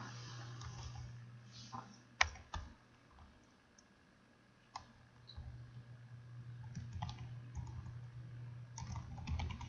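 Code being typed into an HTML page on a computer keyboard: sparse, quiet key taps and clicks under a low electrical hum, growing into a busier, steadier run of keystrokes toward the end.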